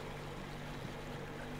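A boat motor idles in the Metro Exodus game, a low, steady droning hum with a faint watery wash, quiet and even throughout with no speech.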